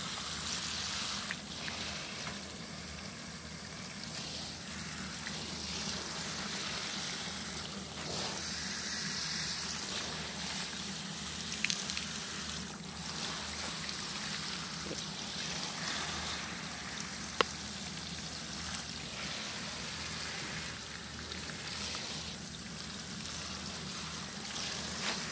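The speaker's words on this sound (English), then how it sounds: "While watering, it shouldn't be big, so we have to be careful." Chrysanthemum plants get a gentle watering, a soft steady trickle and patter of water that runs for the whole stretch at low volume, with faint background noise and one sharp click.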